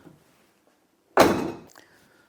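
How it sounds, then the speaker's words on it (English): Rear door of a VW Crafter motorhome swinging shut with one solid, close thunk, followed by a brief fainter click of the latch, then quiet. "test that the door shuts and locks on this"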